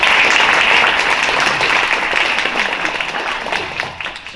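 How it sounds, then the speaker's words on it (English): A luncheon crowd gives loud, dense applause, many hands clapping together in a thick continuous roar that gradually thins and fades toward the end. "So please give them a nice round of applause."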